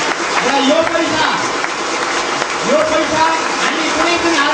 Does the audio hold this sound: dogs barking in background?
no